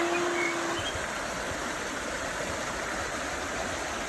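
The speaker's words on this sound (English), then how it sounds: "river." A river in Bulgarian countryside flows with a steady, dense rush of water, constant and fairly close, with no voices over it.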